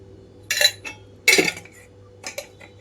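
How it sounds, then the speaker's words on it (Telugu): A metal pan set onto a stove with oil added for a carrot and moong dal fry: two distinct clanking knocks close by, followed by a couple of lighter clinks, with no voices. "ఇక్కడైతే స్టవ్ ఆన్ చేసి పాన్ పెట్టుకుంటున్నాను. ఇందులో ఒక ఆయిల్ అయితే తీసుకుంటున్నాను."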